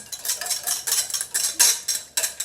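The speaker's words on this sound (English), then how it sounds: "And we are going to whisk." A whisk scrapes rapidly against a bowl while a salad dressing with mint is beaten, producing a steady series of bright metallic clinks and swishes, close and fairly loud, with no talking.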